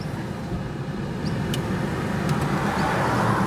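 Holden car crawling slowly along, a steady low engine and tyre rumble with faint clicks, close and continuous.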